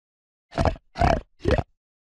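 Three short, rough pig grunts in steady succession, close and fairly loud, with brief silences between them.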